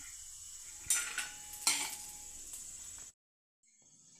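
Coconut roasting in a pan, a faint steady sizzle with a few scraping stirs of a spoon against the metal, then a brief silence before the sizzle returns.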